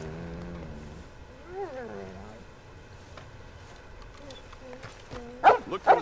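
Dog barks in a western-themed video game, several yelping and whining barks that rise and fall over quiet game ambience, ending in a louder, closer burst of barks near the end.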